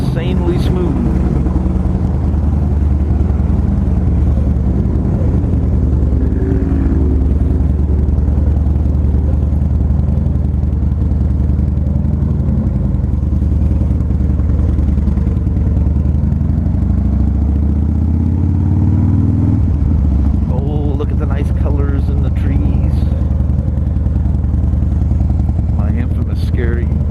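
A 2006 Harley-Davidson Softail Deuce with a counterbalanced engine runs steadily through a test ride, a loud continuous low rumble with a pitch rise and dip near the end as it shifts, wind noise throughout.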